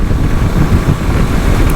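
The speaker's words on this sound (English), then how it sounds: "The only thing you hear is the wind noise in your helmet" Loud, continuous wind roar buffets a motorcycle helmet while riding a 2023 Honda CB500X, a dense low rumble that drowns out any engine sound, with no speech.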